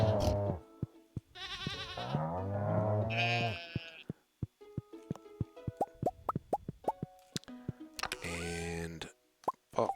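Goats and sheep in Stardew Valley give short cartoonish bleats, a few clustered together, followed by a run of quick plopping clicks from the game, all fairly faint.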